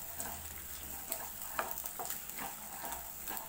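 Eggs stir-fried in oil in a wok give a steady close sizzle, broken by the scrape and tap of a spatula turning them over and over.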